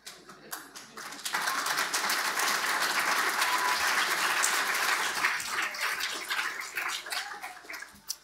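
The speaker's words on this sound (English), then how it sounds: "What a wonderful round of applause that was." An audience at the Australian Children's Laureate 2020-2021 announcement breaks into a warm round of applause, swelling quickly after a few scattered claps, sustaining a dense crackle, then thinning out to a few final claps.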